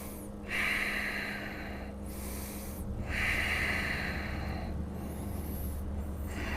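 Heavy, forceful breathing during a side-twist hold in a HIIT yoga flow, palms together: two long, loud, close breaths about a second and a half each, separated by quieter breathing, with no talking.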